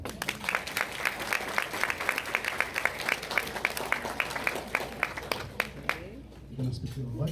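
An audience at a US Army retirement ceremony claps in a steady, sustained round of applause with crisp individual claps, then it fades out while voices talk.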